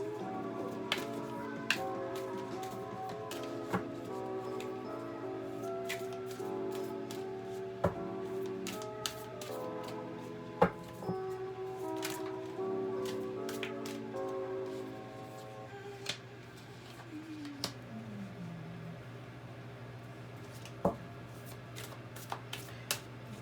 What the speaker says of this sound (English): while I shuffle these Sacred Self-Care cards.